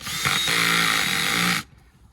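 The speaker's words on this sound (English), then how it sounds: "Combi drill. Best tool I've got, I think." A combi drill runs at full speed in one loud, steady burst of motor whine for about a second and a half, then cuts off abruptly.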